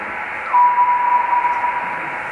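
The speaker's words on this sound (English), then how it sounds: "you're hearing the reflection off of a meteor streak, and you're hearing the frequency change as the speed of the meteor slows down." Radio receiver picking up a meteor scatter reflection: a steady hiss of static with a brief whistling tone that appears and holds for about a second, its pitch shifting slightly before fading.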